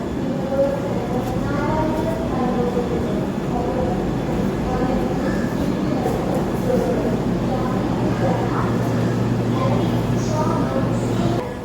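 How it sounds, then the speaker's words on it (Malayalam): A steady low rumble and hum of a train standing at a platform, with a busy murmur of voices throughout. "ഇതാണ് ട്രെയിൻ"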